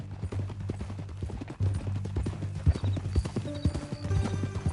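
Horse hooves clip-clop at a walking pace in Red Dead Redemption, distinct close thuds in an uneven rhythm, with a brief whinny-like tone and soft ambience around them.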